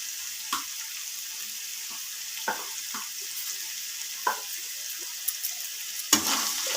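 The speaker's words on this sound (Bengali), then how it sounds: "এরপর মশলাগুলো দেওয়ার পর আবারও একটু সয়াবিনের সাথে মিনিট 10 মতো নাড়িয়ে নেব।" Soybean chunks with turmeric, chili and cumin powder frying in a pan, a steady quiet sizzle with a few soft scraping stirs of a spoon at intervals and one louder clatter near the end.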